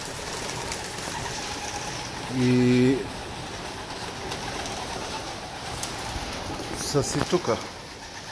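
Pigeons coo at a loft, with a short, clear cooing call and a few fainter calls later, while someone talks nearby over soft outdoor background noise.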